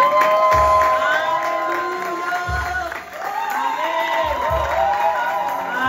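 A church congregation cheers and acclaims during a service, with loud overlapping whoops and shouts rising and falling close by in bursts.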